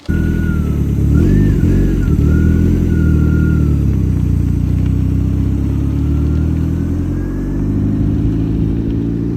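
A Ford Sierra Sapphire Cosworth project car pulls away with its engine revving, a loud, close, continuous drone that climbs and holds as it drives off, with no voices.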